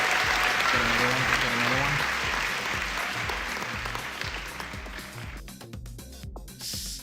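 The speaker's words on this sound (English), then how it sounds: "Can we get another clap?" Applause and clapping ring out on a live crypto trading stream, a dense, steady patter that slowly fades over several seconds, with a repeating low rhythmic sound underneath.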